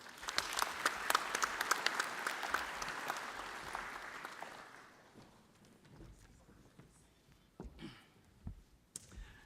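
Conference audience applause at a trade and investment event, loud clapping for about four seconds that thins out into scattered claps and faint taps before fading to a quiet room.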